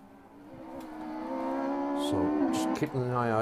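A rally car on a West Cork Rally stage approaches with rising engine revs and gear changes, growing louder as it nears, with commentary talking over the sound.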